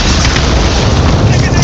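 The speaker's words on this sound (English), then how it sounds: "Secondary detonation in the cabin!" A secondary detonation explodes inside a cabin in Call of Duty: Modern Warfare, a loud, sustained roaring blast with heavy low rumble that fills the whole moment, with voices shouting underneath.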